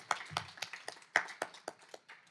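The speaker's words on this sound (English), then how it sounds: "So we can start by giving yourselves a round of applause." Sparse, scattered clapping from a small poetry-reading audience in Tucson, a handful of distinct claps at irregular intervals rather than a full ovation, fairly faint and brief.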